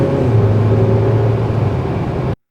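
A 2025 Kia K5 GT sedan accelerates hard to merge onto a fast road, a steady loud engine drone and road rumble heard from inside the cabin that cuts off abruptly at the end.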